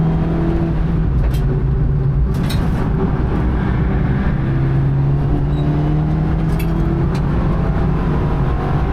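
BMW G42 racecar lapping the Nürburgring Nordschleife, its engine droning steadily from inside the cabin with shifting harmonic tones as revs rise and fall, continuous and loud with no talking.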